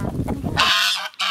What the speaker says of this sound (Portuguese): Gente, é muito engraçado esse ganso aqui.